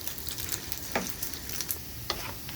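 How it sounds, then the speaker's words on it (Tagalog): Boiled chicken gizzards fry in a pan, giving a steady crackling sizzle throughout with occasional sharper pops, close by and unaccompanied by talk. "ako na po ni siyang i-prito. Prito lang inani anto siya mag-brown."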